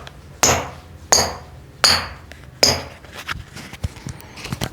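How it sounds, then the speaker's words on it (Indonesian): A Specs Metasala futsal shoe is tapped by hand and gives off four sharp, clicky knocks in an even rhythm, followed by fainter, softer taps, all heard close with no speech. "oke, sepatu ini bunyi ya geng."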